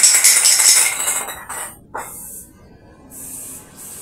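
A can of black spray paint hisses in short bursts near the mic, a long spray at the start followed by two briefer sprays after a pause, with light clinks between, during rust-removal touch-up work.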